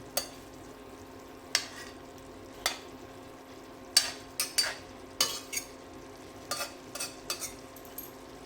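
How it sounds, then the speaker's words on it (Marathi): Stuffed brinjal for Maharashtrian bharli vangi being turned in a pan, with a soft steady sizzle of frying under a dozen sharp spoon-and-pan clinks spaced irregularly, close by. "आता आपण ते परतून जरा दुसऱ्या बाजूनं शिजवून घेऊ."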